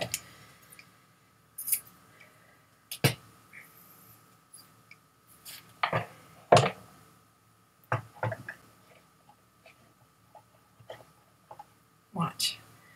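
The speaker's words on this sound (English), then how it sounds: "I'm going to cut this off here." Scissors snip ribbon while a bow is made on a bow-making tool, giving sparse sharp cuts and small clicks close by, with quiet handling noise between them.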